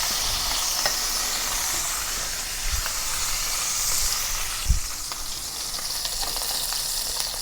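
Shrimp sizzle steadily in a hot pan with garlic, a continuous frying hiss with a few soft knocks and stirs of the pan, close and alone without talk.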